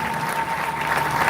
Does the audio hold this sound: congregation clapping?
yes